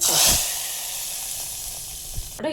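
Hot tempering of fennel and curry leaves hits mutton bone soup in a loud burst of sizzle that eases into a steady hiss, with a few sharp clinks near the end.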